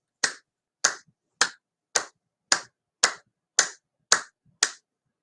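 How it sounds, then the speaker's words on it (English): Nine sharp, evenly spaced hand claps from a laughter therapy demonstration, each one loud, close and crisp with a quick decay, separated by silence. "We clap like this."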